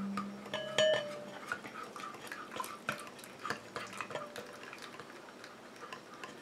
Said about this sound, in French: Je viens rajouter ma phase aqueuse tout en mélangeant.